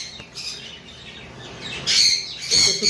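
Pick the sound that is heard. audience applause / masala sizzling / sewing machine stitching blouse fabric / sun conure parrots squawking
sun conure parrots squawking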